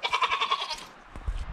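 Goats in a farm pen bleat in a close, wavering series of calls for most of the moment, then fade into shuffling and faint thumps near the end.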